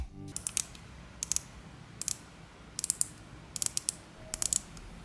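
The unidirectional 120-click bezel of a Shaw Manta automatic watch is turned in quick runs of crisp, sharp ratcheting clicks, close and distinct, grouped in several short bursts against a quiet background.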